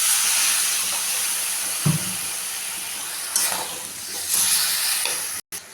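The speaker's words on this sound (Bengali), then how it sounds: "এখন আমি মশলাটা ভালো করে মিশিয়ে নেব, নিয়ে একটু কষিয়ে নেব। মশলাটা যাতে পুড়ে না যায় একটু জল দিলাম" Masala spice paste stirred and sautéed in a pan with a splash of water, a steady close sizzle and hiss with scraping stirs and brief louder bursts of steam.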